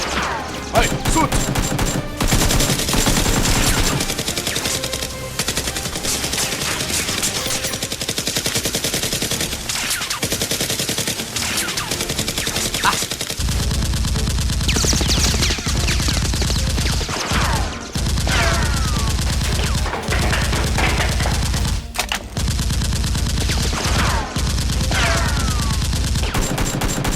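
Nerf guns firing during a Nerf war produce rapid, repeated mechanical clacks and thumps in bursts, loud and close, amid busy noise with brief shouts.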